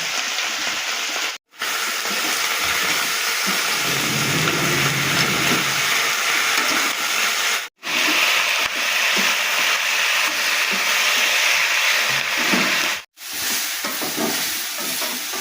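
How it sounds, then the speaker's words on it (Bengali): Onions frying in a pan with hot oil hissing continuously and a spoon stirring and scraping through them, close up, with two brief cuts to silence. "তো পেঁয়াজগুলিটা আমার ভাজা ভাজা হয়ে এসছে আর একটু সামান্য নাড়াচাড়া করে আমি নামিয়ে দেবো"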